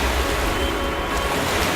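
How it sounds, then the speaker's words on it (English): An airliner splashes down onto water at about 103 mph, heard as a loud, continuous roaring rush of water and wind spray with no clear speech. "The plane splashes down at a speed of 103 miles per hour."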